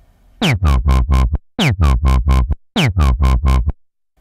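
Three short phrases of a buzzy Sylenth1 synth bass, each note pulsing in rapid eighth-note wobbles from a 1/8-synced LFO on the filter as the tone sweeps from bright to dull.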